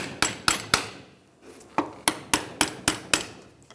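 Metal pry bar tapping a rusty snap ring on the upper ball joint of a 1996-2002 Toyota 4Runner: about ten sharp, ringing metallic strikes, close and loud, in two quick bursts with a short pause between.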